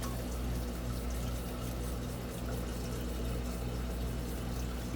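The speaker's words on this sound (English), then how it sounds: "I want to run some kind of tepid water in there." A tap runs tepid water in a steady, even rushing stream, fairly faint beneath a low background hum, with no talking.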